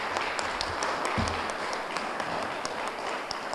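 Audience applause at a ceremonial gathering, a steady wash of clapping from a crowd that stays even throughout, dense and continuous with a few louder individual claps.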